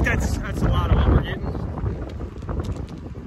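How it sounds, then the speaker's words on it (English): Gusty hurricane wind on an Ohio farm buffets the microphone with a low rumbling roar, strongest early on and easing slightly later. "It's nasty and windy"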